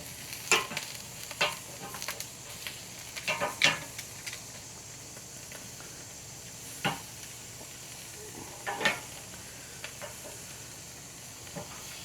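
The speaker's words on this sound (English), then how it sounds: "Looks like these are not gonna take long at all to sear" Rack of lamb sears on a charcoal grill with a continuous low sizzle and hiss, broken by occasional clicks and taps of tongs moving the meat, quiet and close.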